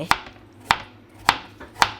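Four sharp knife chops on a cutting board, evenly spaced about half a second apart, close and crisp with quiet room tone between.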